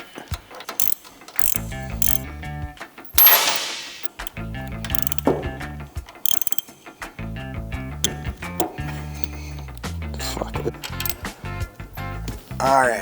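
Wrench ratcheting as it removes the brake side foot peg on a Harley-Davidson Softail, short bursts of rapid clicking separated by pauses and soft handling noises.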